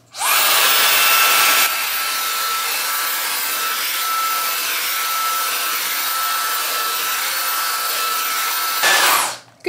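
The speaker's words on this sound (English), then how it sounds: "I'm gonna actually go blow dry them." A hair dryer blows on hair at close range, a loud, steady whoosh running continuously for about nine seconds, with a brief louder surge at the start before it settles, then switched off at the end.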